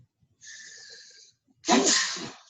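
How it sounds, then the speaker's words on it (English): A single close sneeze, a sharp burst preceded by a brief high intake of breath, in an otherwise quiet room. "Sneeze."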